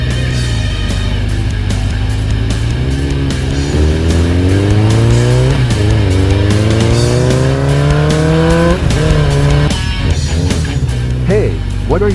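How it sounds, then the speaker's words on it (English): A trail bike engine roars loud and close as the garage door opens, its pitch rising and falling through repeated revving surges with tire squeal, under continuous background music. "The roar of a typical trail bike engine starts to sound loud."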